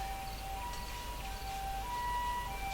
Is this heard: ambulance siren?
yes